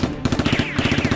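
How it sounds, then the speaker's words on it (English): Rapid machine-gun-style bursts of gunfire from Nerf guns in an action film shootout, a steady run of close, loud shots that pause briefly midway and then resume. "The boss and the robbers fire back."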